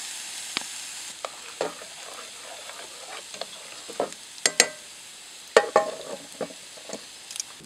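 A giant steak sizzles in a pan at a backcountry campsite during a canoe trip, with a steady fry hiss broken by sharp scrapes and taps of a utensil against the pan.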